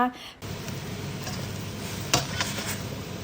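Thai stir-fried mixed vegetables crackle in a hot pan, a continuous sizzle punctuated by a few sharp utensil scrapes and clatters after a brief quieter opening.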